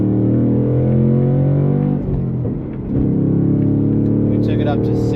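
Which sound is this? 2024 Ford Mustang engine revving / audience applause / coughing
2024 Ford Mustang engine revving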